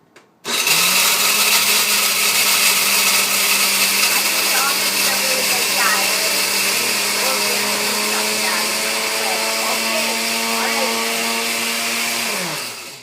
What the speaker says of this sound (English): I like turning the blender on with all those